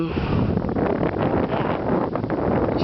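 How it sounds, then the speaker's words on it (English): Loud, constant wind buffeting a microphone at a ski resort, a dense rumbling roar with no clear voice coming through. "It's so windy, so I don't know if you can hear me"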